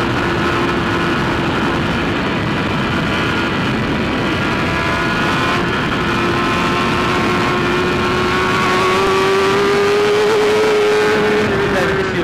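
A 2015 BMW S1000RR motorcycle with a Hindle exhaust is ridden, its engine a loud, steady drone heard up close with heavy wind rush, the pitch climbing slightly near the end.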